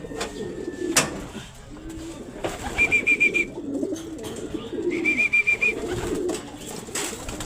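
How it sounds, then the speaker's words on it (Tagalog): Homing pigeons coo in a loft after returning from a training flight, with repeated low throaty rolling coos close by among shuffling and light background noise. "Ito yung first bird natin eh."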